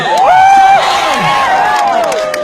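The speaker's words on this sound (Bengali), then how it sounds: "সাকিব ভাইয়ের বক্তব্য আপনারা সবাই একটি হাততালি দেবে" A live-show crowd in Assam, India, cheering and whooping loudly over a brief stretch, with scattered voices rising above the noise.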